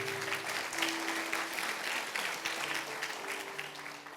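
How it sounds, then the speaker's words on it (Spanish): A church congregation applauds steadily for several seconds, a dense wash of clapping filling the room with no pause. "Vamos a darle fuerte ese aplauso"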